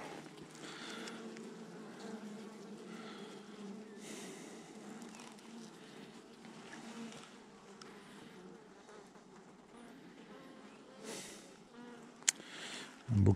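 Honeybees buzzing steadily during a beehive inspection in cold weather, a continuous droning hum with a few louder passes close by, ending in a brief bump.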